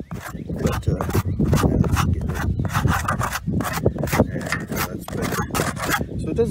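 A hand file rasps back and forth over cured filler on a Corvette C3 dashboard, steady close strokes in a continuous scraping rhythm while someone talks throughout.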